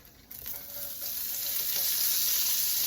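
Half a Vidalia onion drops into hot olive oil and sizzles, the hiss jumping up on entry and building into a steady, loud frying crackle, close by.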